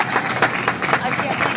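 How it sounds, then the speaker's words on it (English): A crowd at an Occupy Wall Street gathering claps and cheers in dense, uneven applause, close and fairly loud, with voices murmuring underneath. "Give yourself an applause"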